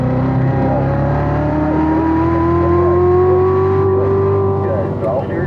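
A car engine revs steadily upward on a Spring Mountain race track as throttle is rolled to full, a loud continuous rising drone with tire and wind noise, a voice briefly heard underneath.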